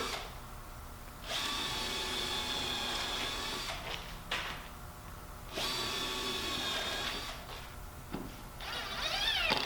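A power drill whines in long bursts with brief pauses between, its pitch shifting as screws drive into plywood, close and steady.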